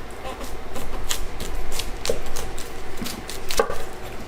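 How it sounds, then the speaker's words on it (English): A knife slices the base off a Romanesco on a cutting board, with a few sharp chopping knocks standing out against steady close kitchen background noise. "I'm gonna cut this bottom piece off."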